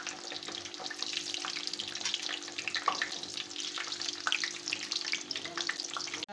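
Pieces frying in oil for Lahore chatkhare street food, a continuous close crackling sizzle with a faint hum underneath and a short knock partway through, with no talk.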